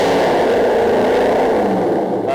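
An Aston Martin GT8 engine holds a loud, steady roar close by, sustained throughout with slight rising revs and a mechanical whir, no voices over it.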